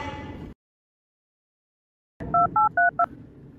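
Four short telephone keypad tones beep in quick succession after a brief burst of room noise and a silent gap, with low background hiss around them.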